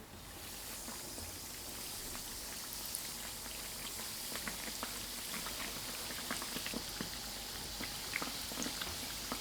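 Raw burger bun dough frying in moderately hot oil gives a quiet, continuous bubbling sizzle, with scattered small pops and crackles.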